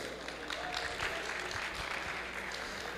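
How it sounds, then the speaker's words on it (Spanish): Audience applause for speakers at a tech meetup, a dense steady clapping from a crowd filling the whole stretch at even loudness. "un aplauso para ellos"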